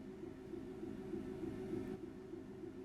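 A Class 66 diesel locomotive in Train Sim World 3 gives off a faint, steady low engine drone that holds unchanged, with no other sounds.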